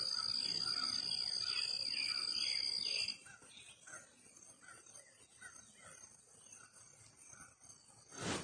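Crickets chirp in a loud, steady high-pitched trill for a few seconds, then fade to a softer chorus of insects and distant birds.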